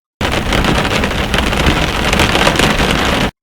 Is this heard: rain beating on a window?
yes